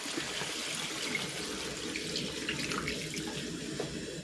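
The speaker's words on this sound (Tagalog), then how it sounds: "Maglalagay na ako dito ng tubig." Water pours steadily into a pot of native chicken tinola with a continuous splashing rush, close by and moderately loud, with no talking.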